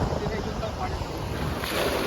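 Rushing surf and wind roar at a seashore in Dapoli, Konkan coast, a loud continuous wash of waves with gusty noise against the microphone.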